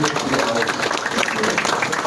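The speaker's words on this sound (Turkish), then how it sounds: "onlara şöyle güzel bir alkış hak ettiklerini düşünüyorum" Dense, continuous applause from an audience at a community association's book launch event, loud and unbroken throughout the short stretch.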